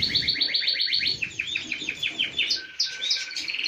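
An aviary bird held in the hand chirps continuously with rapid, high, bright trills and tweets, close and loud throughout, with no talking.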